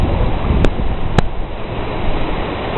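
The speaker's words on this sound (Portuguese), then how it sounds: "Olha, ó, vem vindo as ondas aí." Ocean surf rolling in at Santinho beach in Florianópolis, a steady broad wash of breaking waves with wind over the microphone, no talking.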